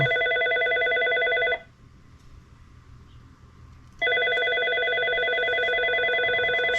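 A telephone rings loud and near in long, steady bursts beside a 1998 Yamaha G16 gas golf cart in a workshop, one ring cutting off for a few seconds of low background before ringing again.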